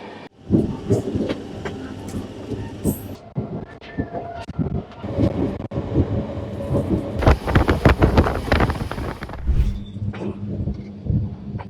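A fast passenger train on the Nidadavolu to Narasapur line, heard from on board as loud rumbling with rattling wheel clatter over rail joints and bursts of rushing noise, surging and easing throughout.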